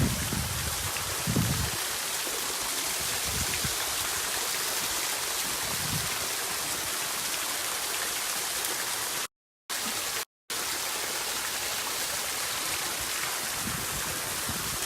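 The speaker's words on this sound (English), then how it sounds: "on this side, we did this waterfall. Very nice waterfall." Steady, dense rush of water falling over a built stone waterfall, splashing continuously close by, with a couple of brief dropouts near the end.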